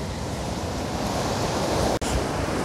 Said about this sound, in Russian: Видите, как море бушует.